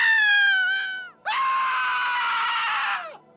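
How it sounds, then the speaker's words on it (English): Two loud, high-pitched cartoonish screams from a Happy Tree Friends character, the first sliding downward, the second longer and held before trailing off. "and even the same girly screams."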